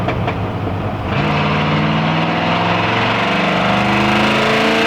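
A 1966 Chevrolet Impala SS V8 with a 2 1/4 inch exhaust rumbles steadily and close, a deep idle that rises into a fuller, throaty drone partway through and holds there to the end.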